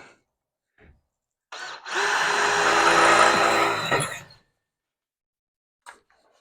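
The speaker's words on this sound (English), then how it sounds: "Now we have that hole drilled." A power drill bores a 3/16 hole for relocating the O2 sensor on a Ranchero, one close, loud whining run of about two and a half seconds with faint clicks before and after.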